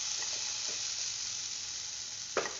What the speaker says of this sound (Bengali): এবার আমি এটাকে হালকা করে ভেজে নিচ্ছি।